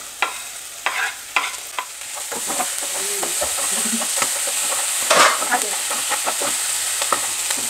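Tomatoes and onions sautéing in a pan, with a steady sizzle beneath repeated clinks and scrapes of a stirring spoon, close and moderately loud throughout.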